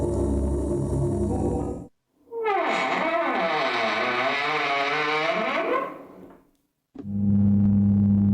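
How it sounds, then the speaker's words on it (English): Loud, resonant electronic hum filling a pitch-black room in the Bad Faith psychological horror game, droning with a warbling, distorted, echoing tone that swells and sweeps, then cuts out and returns. "a loud humming sound resonates from within the room"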